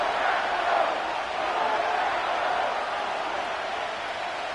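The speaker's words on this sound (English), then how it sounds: "the crowd getting into it as we come up on a big third down" A simulated stadium crowd in a Madden NFL football video game roars steadily before a big third down, a dense and sustained cheer with no breaks.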